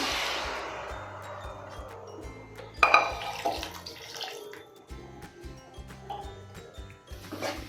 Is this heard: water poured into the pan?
yes